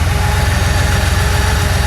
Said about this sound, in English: give me a little rev